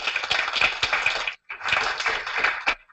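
Conference audience at a Hong Kong mobile developers' event claps in a dense, steady burst of many hands, breaking off briefly and then swelling again before stopping abruptly.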